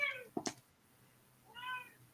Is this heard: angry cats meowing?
yes